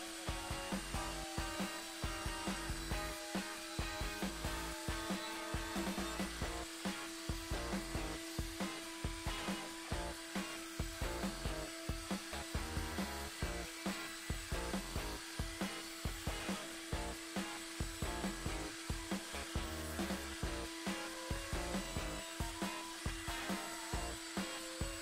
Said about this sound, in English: I'm going to use a 1/8 inch router bit. I just want to round the edges over very slightly.